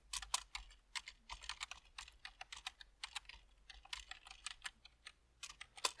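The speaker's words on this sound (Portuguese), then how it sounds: "vamos digitar de novo" Someone types a password on a computer keyboard, a steady run of sharp, close key clicks in quick irregular bursts with no one talking.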